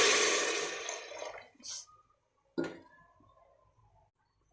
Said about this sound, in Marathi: त्यामध्ये आपण पाणी टाकूया।